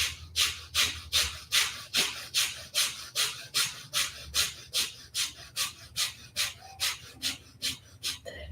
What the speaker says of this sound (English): We're going to exhale and inhale very quickly through the nose, igniting the fire.